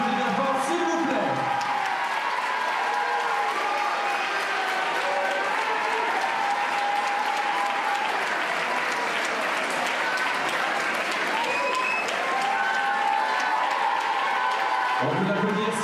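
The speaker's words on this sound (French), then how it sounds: "que l'on applaudit bien fort, s'il vous plaît." A hall audience at the Miss Saône-et-Loire 2014 pageant applauds a candidate with dense, sustained clapping and some cheering, loud and steady throughout with a hint of voices in the crowd.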